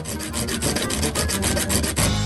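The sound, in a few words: hand saw cutting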